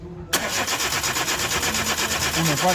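A Chevrolet Spark with an ignition coil fault cranks on a start attempt, the starter kicking in abruptly after a brief quiet moment and churning steadily with a rhythmic, uneven engine whir.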